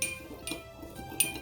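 Vinegar and salt being mixed in a glass, a few soft clinks of a utensil against the glass at irregular intervals, close and quiet with no talk.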